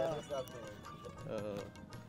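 Horse hooves of a horse cart clip-clop in a quick, uneven rhythm nearby at a traditional rural market in Tangail, while a person talks over them.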